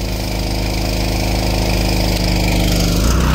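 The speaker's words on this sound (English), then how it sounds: "you just hear that power washer can't take it, or the motor rather" An old pressure washer motor drones steadily and loudly at a dairy farm, straining under load with a constant low hum that shifts slightly near the end.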